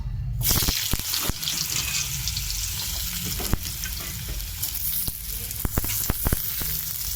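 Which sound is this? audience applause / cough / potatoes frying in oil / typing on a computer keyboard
potatoes frying in oil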